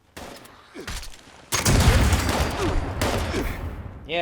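Vape cannon weapon firing in the Fallout 76 video game, a dense, loud burst of rapid crackling blasts that starts abruptly and sustains, with a brief second surge and quieter game noises before it.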